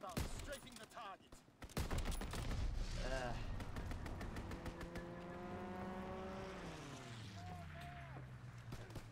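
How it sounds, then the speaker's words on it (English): A fighter plane makes a strafing run in Call of Duty WW2, opening with a rapid burst of gunfire, then a loud engine drone that sweeps and falls in pitch as the aircraft passes. "Fighter pilot inbound, strafing the target."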